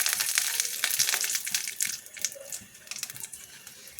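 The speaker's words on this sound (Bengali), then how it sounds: "খুন্তিতে একটুখানি জল ছিল বলে এটা একটু ছিট করছে" Nuts fry in hot oil for vermicelli pudding, spitting and crackling in a dense, close sizzle where a little water hit the pan, with no voices.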